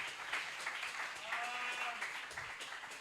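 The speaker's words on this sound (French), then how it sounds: "Acclamez pour le Seigneur Jésus-Christ." A church congregation applauding during a French-language sermon, a steady wash of clapping with voices and cheers mixed in, held at an even level for the whole stretch.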